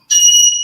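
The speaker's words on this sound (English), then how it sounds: "My goodness, the bird. I'm sorry about the beeping." One loud, shrill beep held steadily, close and alone, sounding almost like an alarm chirp from a bird.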